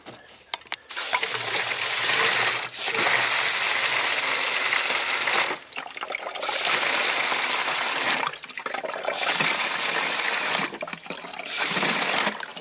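Coolant flows out of a heater core hose on a 2010 Subaru Tribeca H6, a steady splashing liquid rush that comes in several long bursts with brief quieter gaps, fairly close and loud.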